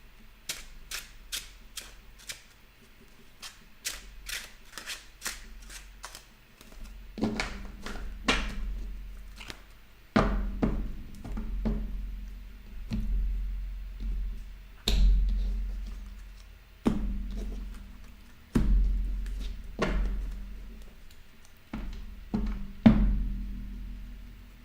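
Tarot cards being shuffled by hand, quick riffling bursts of crisp clicks repeated in several rounds with brief pauses between, close and dry with no talk.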